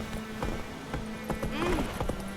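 Roach the horse's hooves clip-clop at a steady walking rhythm in The Witcher 3, close and clear, with a short vocal sound partway through over a faint ambient hum.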